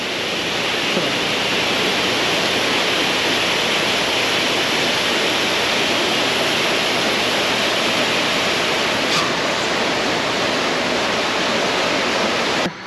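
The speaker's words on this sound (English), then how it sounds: "Been spraying water." Water sprayers soak Jersey dairy cows on a large California dairy farm, a loud, steady hiss of spray that runs unbroken and close, with no voices.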